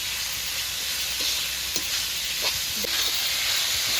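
Ginger garlic paste sizzles steadily in a hot pan for chicken chow mein, with a constant frying hiss and a few soft scrapes from stirring scattered through it, no talking.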